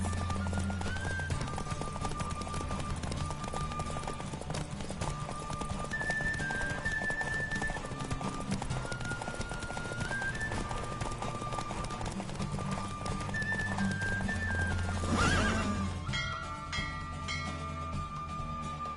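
Steady hoofbeats of a galloping horse in a Witcher video game run continuously over a dense music and game soundscape, with a brief louder burst near the end.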